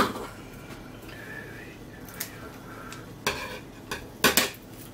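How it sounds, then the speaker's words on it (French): Small scissors snipping through tough rosemary stems, a few faint clicks and then a cluster of crisp, close cuts near the end, with light rustling in between. "Difficile à couper avec mon ciseau, mais ça va quand même."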